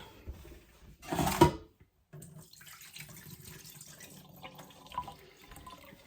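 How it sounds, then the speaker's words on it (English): Canned green beans being drained over a sink: a short, loud rush of liquid pouring out for about a second, then quieter clatter and handling sounds. "And some green beans. Let me drain this."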